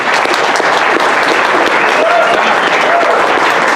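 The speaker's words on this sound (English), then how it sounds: "Let's give Bryan a big round of applause." Steady, dense applause from a SecKC hacker meetup audience fills the room, loud and continuous throughout with faint voices and a whistle mixed in.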